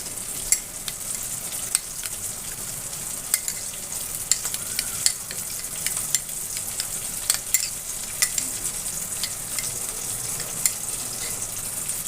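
Cumin seeds and ginger paste frying in a hot pan for a vegetarian soybean curry, a steady loud sizzle with scraping stirring strokes throughout, no talking.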